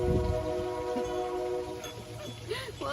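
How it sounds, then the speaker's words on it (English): A passing train sounds nearby as a steady mechanical rumble with sustained tonal horn-like notes over it, continuous through the short stretch, with faint voices underneath. "Nothing like welcoming sound of a train."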